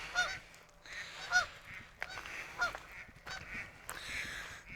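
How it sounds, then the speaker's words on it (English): Several geese honk in loose, overlapping bursts near a retired icebreaker museum ship in Mackinaw City, some calls close and loud, others fainter, over a low steady background hum. "There's a lot of geese here."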